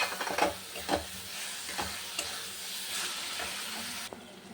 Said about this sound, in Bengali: সোয়াবিনটা দিয়ে দেবো সোয়াবিনটা দিয়ে একটু কষিয়ে নেব